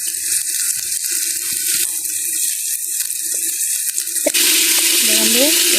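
Turmeric-washed chicken pieces tipped into a pan of frying onion-tomato masala with garlic and ginger, over a steady background hiss; a sudden louder sizzle bursts up and keeps going.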